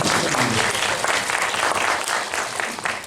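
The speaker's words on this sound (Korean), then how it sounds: "박수 한번" A cinema audience at a Bucheon International Fantastic Film Festival screening in CGV Bucheon applauding continuously, a dense, loud wash of clapping from the whole room throughout.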